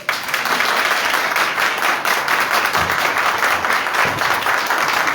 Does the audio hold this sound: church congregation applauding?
yes